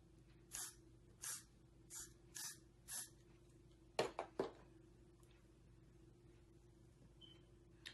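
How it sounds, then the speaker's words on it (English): Five short bursts of Got2b Glued hair spray hiss onto a wig in a steady rhythm, then a quick cluster of three sharper sprays, followed by quiet. "I'll go in with the got to be glued spray as well"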